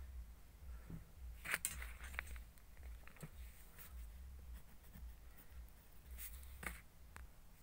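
Writing on a board, with quiet scratchy pen or marker strokes and occasional taps coming in short irregular bursts, close by in a quiet room.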